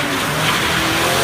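A Dodge Charger with a Hemi V8 revving hard and accelerating, a loud, dense, continuous engine roar with a hint of tire noise, steady throughout without any voices.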